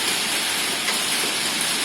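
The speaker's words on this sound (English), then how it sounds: "Sounds like hail. Might be hail." Hail falls outside in miserable weather, a dense, steady hiss of pelting ice that holds evenly throughout with no talk over it.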